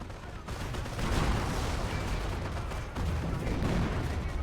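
An ISU-152 self-propelled gun fires amid a World War II battle in Company of Heroes, a dense, heavy rumble of booming blasts and crackling gunfire that surges steadily throughout.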